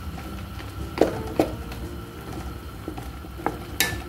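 Curry Maggi noodles with beans and corn stirred in a pan, a soft bubbling sizzle with a few distinct utensil knocks and scrapes against the pan.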